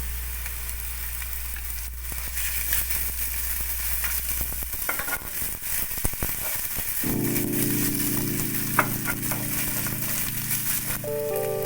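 Ginger paste frying with garlic paste in a pan for an egg dish, a steady close sizzle with scraping and stirring throughout, plus a few clinks.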